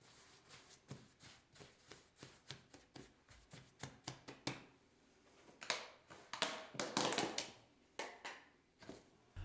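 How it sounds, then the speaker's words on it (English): Dough for a no-knead honey oatmeal bread is folded over onto itself into a ball with a plastic bowl scraper, giving a steady run of soft scraping taps and sticky slaps, denser and louder toward the end. "using a plastic bowl scraper, I'll fold the dough over onto itself, forming a ball"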